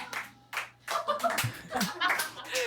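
A few quick bursts of hand clapping come close to the microphone, mixed with chuckles and excited chatter from two people in an outdoor shoot.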